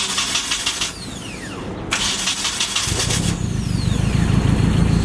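A Japanese-market Nissan D21 pickup truck with an RB engine cranks and fires up, the starter whine giving way to a steady, loud idle that grows rougher and fuller toward the end, close to the microphone.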